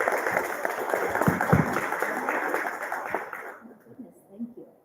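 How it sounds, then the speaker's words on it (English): Moderate applause from an audience welcoming a featured artist, a steady patter of clapping that fades out after about three and a half seconds, followed by quiet with faint voices. "I wish my students gave me a round of applause when I walked in."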